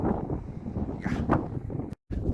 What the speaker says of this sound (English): It's super windy, so I'm not sure if you can hear me,